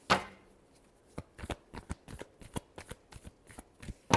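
Tarot cards being shuffled by hand, a quick burst of riffling followed by a steady series of crisp, separate snaps and flicks, close and clear with no talking.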